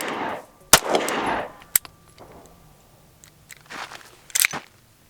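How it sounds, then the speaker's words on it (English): A Kel-Tec P15 pistol fired one-handed at close range gives a few sharp, loud reports spaced unevenly, with crunchy mechanical clatter and brief gaps of quiet between them. "let's go ahead and shoot a couple rounds one-handed up close so you guys can see what that recoil looks like"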